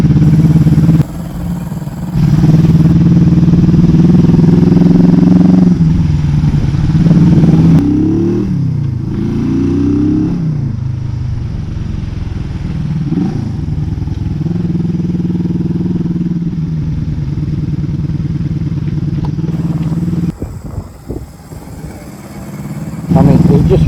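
A 1973 Honda CB250 K4 classic motorcycle runs on a ride, its engine droning steadily and loud up close with rising and falling revs through gear changes and strong wind rush.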